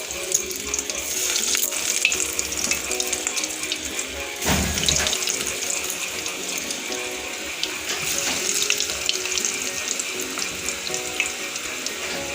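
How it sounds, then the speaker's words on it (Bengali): Banana flower (mocha) chops sizzle steadily in hot mustard oil, a dense, continuous bubbling hiss close to the pan, with a brief louder burst as more chops go in; no talking. "তেল গরম হয়ে গেছে। এবার আমি মোচার চপগুলো একটা একটা করে ছেড়ে দেবো।"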